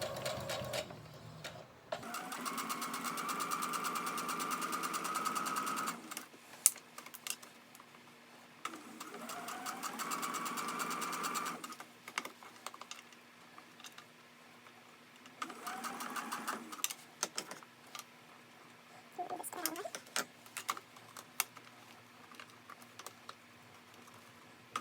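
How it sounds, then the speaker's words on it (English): A sewing machine back stitches an invisible zipper in several bursts of quick, rhythmic whirring stitches, with pauses and light clicks and handling noise between runs. "And then I'm going to back stitch."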